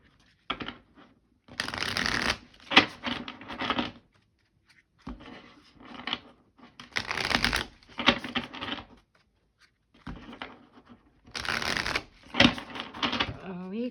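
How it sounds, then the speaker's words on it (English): Oracle cards, a Cosmos Oracle deck, being shuffled in three bursts of riffling and sliding, each lasting a few seconds with short pauses between, close and fairly loud. "ready to shuffle already"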